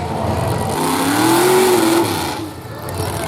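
A builders-class race car at a county fair race revs up loudly nearby, the engine note climbing and holding before it fades as the car passes. An announcer's voice runs over it.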